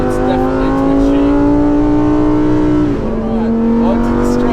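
A Lamborghini Huracan STO on a race track accelerates hard, its engine note climbing steadily in pitch, dropping briefly at a gear change, then rising again. It is loud and close, with a voice speaking over it.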